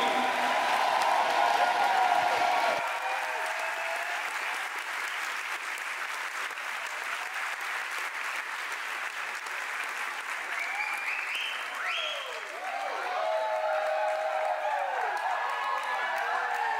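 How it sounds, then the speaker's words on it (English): Audience at a dance cabaret show applauding the show team, a dense wash of clapping and crowd noise throughout, with some tonal music or voice sounds coming in toward the end. "S'il vous plaît, un tonnerre d'applaudissements, make a lot of noise for the show team!"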